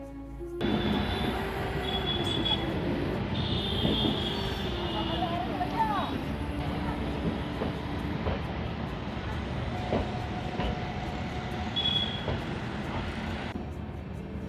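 A passenger express train rolls through the middle of Bareilly city, with steady rumbling wheels, clattering and squealing metallic tones for the whole stretch, close and loud.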